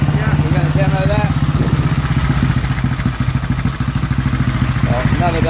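A 1927 Sunbeam Model 6 500cc single-cylinder motorcycle runs close by with a loud, steady thumping beat and mechanical clatter, while people talk over the engine.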